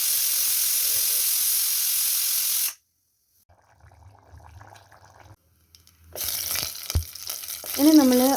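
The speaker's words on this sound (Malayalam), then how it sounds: "നമ്മൾ ചട്ടി വെച്ച് വെളിച്ചെണ്ണ ഇട്ടതിന് ശേഷം തേങ്ങാക്കൊത്ത് ഇട്ടിട്ടുണ്ട്." Coconut pieces frying in hot coconut oil in a pan for a Kerala-style beef dish give a loud, close, steady sizzle that cuts off, leaving near silence with faint kitchen noises, then resumes with clattering and stirring.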